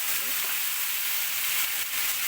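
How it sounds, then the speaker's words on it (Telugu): Tamarind pulp hitting a hot pan of oil and green chillies for pulihora gives a loud, steady, close sizzle that fills the whole moment, with no voices over it. "ఇప్పుడు చింతపండు రసం తీసుకొచ్చిన చింతపండు గుజ్జునైతే వేసుకుంటాం"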